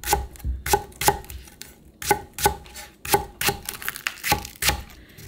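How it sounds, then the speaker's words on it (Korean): A knife chops green onions into large pieces against a cutting board, about a dozen sharp, close knocks in an uneven rhythm with brief pauses between bursts. "등갈비에 들어갈 대파를 좀 큼직큼직하게 써세요."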